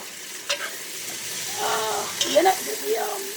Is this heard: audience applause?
no